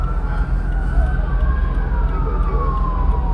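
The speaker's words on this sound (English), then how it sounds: "You hear the sirens?" Emergency vehicle sirens wail at night in Los Angeles near rail tracks, the rising and falling tones carried over a loud low rumble of nearby traffic or engine noise.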